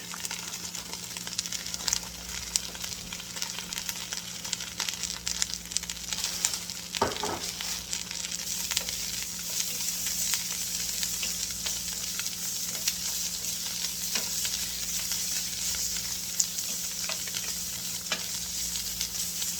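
Broccoli and mushrooms stir-frying in a hot pan, a steady loud sizzle with occasional stirring scrapes and clinks running throughout, no voices.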